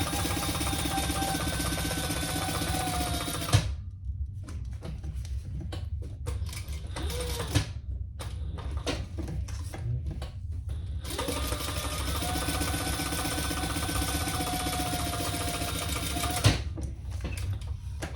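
A sewing machine stitches down the side of a fabric bag in two long, loud, steady, close runs, with a quieter pause between them filled with brief handling clicks.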